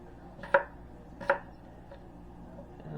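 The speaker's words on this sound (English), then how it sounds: "cutting up these potatoes" A knife chops potatoes on a cutting board with two crisp, distinct thuds and a fainter third, close and alone in a quiet kitchen.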